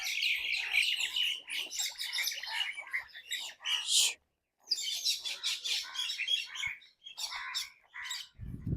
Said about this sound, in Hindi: ओह, कौवे ने अटैक कर दिया